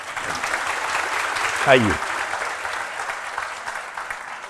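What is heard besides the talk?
audience applause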